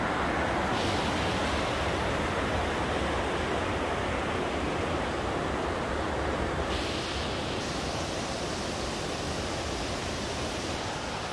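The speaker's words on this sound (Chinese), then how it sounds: "黎明瀑布" Dawn Falls waterfall near Aso volcano in Kumamoto, a loud, steady broadband roar of falling water that runs unbroken throughout with no pauses.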